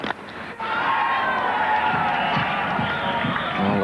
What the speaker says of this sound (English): every run going to be cheered by those West Indian supporters over there